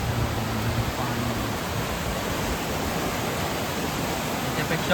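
A rain-swollen stream in Mangeli village in the Konkan rushes in a dense, unbroken roar, loud and steady throughout with no talking.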